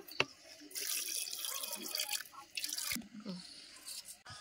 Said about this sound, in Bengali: জল দিয়ে দিচ্ছি পরিমাণ মতো